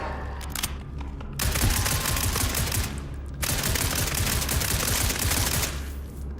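Video game gunfire in long, dense automatic bursts, with mechanical clicks and clatter of reloading in the gaps between them, loud and close with no talk.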